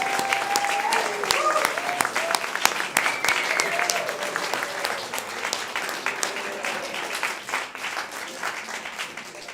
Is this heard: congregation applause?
yes